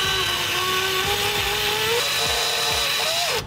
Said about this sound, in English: And I'm using the drill to